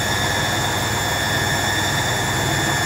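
An old Servis Quartz MK600 washing machine spinning at 600 RPM on a silks 30°C program, shaking heavily: a steady, loud, droning whine and rumble with constant tonal hum, unbroken throughout.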